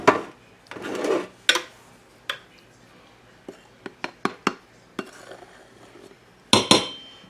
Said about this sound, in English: And I always use a butter knife to level off my flour